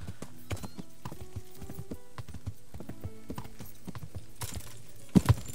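Hooves clip-clop in a quick, uneven rhythm from a horse ridden across open country in Kingdom Come: Deliverance, with two louder thuds near the end, likely from jumping hedgerows.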